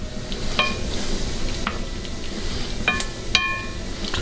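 Garlic sizzling in a pan while being stirred for a creamy garlic mushroom steak glaze: a continuous close sizzle broken by several sharp metallic clinks of utensil on pan, without talking.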